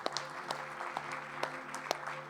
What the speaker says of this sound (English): It's great that you're clapping.